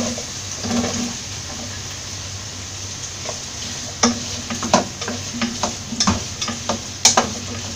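Ginger, onion and carrot fry in a pan for a Kerala-style mutton stew, a steady sizzle under repeated scraping stirs of a spoon that grow busier and louder in the second half.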